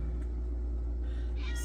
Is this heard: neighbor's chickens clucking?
no